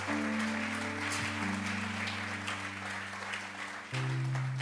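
Congregation applauding during a Spanish-language Bible study service, dense continuous clapping over a sustained organ or keyboard chord, with the tones shifting near the end.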